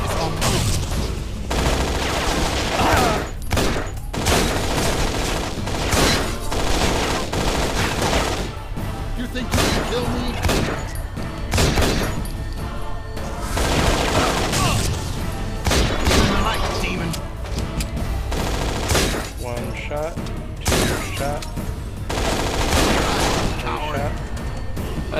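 Weapons fire again and again in the video game Infernal, loud close bursts and booming shots that keep coming in clusters throughout, while players talk over the gunfire.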